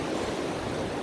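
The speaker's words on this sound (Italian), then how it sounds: "Santo vento oggi, è la mia salvezza." Wind blows outdoors along a walking route near the castle of Verrès, a steady close roar buffeting the microphone with no talk over it.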